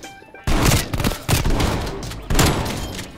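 Gunfire in the Call of Duty: Black Ops Cold War video game: loud, close bursts of shots in three sharp clusters, each starting abruptly and trailing off, with no talking.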